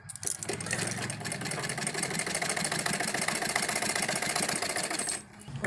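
A sewing machine stitches a patiala salwar in a rapid, even mechanical chatter that runs steadily for several seconds, then stops briefly near the end before restarting.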